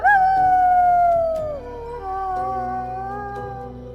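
A wolf howls in the WolfQuest video game, a long sustained tonal howl that slowly falls in pitch, then a second softer howl, loud and close over layered background tones.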